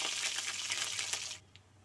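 Spice pastes hit hot oil with a bright, close hiss of sizzling that holds steady for over a second and then drops off sharply, alone without talk.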